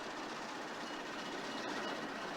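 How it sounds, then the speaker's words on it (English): Diesel locomotive 1055 of the Conway Scenic Railroad runs around its train at the North Conway station, a steady, loud rumble with faint rail clatter and no talk. "1055 runs around the train for another scheduled departure in front of the magnificent North Conway Railroad Station."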